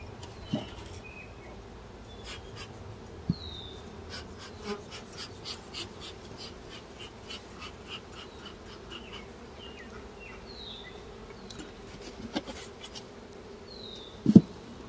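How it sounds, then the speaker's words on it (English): Agitated honey bees drone around mini mating nucs in the open air, a steady low buzz with individual insects zipping close past in brief louder passes, and a few sharp knocks near the end. "Bees are getting worked up."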